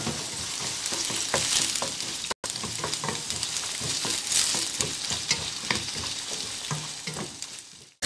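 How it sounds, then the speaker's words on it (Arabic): Chicken breast added to browned onions sizzles and fries steadily in a pan, with clinks of stirring scattered throughout and one brief gap near the start; no one speaks. "بعد ما تشحرت لينا البصله غادي نزيدو الصدر ديال الدجاج"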